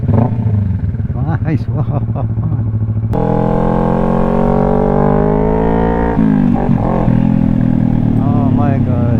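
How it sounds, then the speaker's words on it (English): A Kawasaki Ninja 400 with an SC Project exhaust idles and revs loudly up close, its engine note rising and falling in throaty pulls, with a brief spoken word at the start. "I'm waiting for a long time for this moment to hear the music of my motorcycle."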